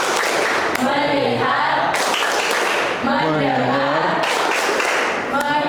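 Students in a classroom perform a rhythmic focus clap, sharp group claps landing at intervals between loud chanted responses from the class.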